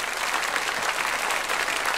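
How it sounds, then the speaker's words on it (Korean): A church congregation at a Sunday worship service claps together to welcome newcomers, a full, steady wash of applause from many people, moderately loud and without speech. "처음 나온 새가족을 박수로 환영하겠습니다."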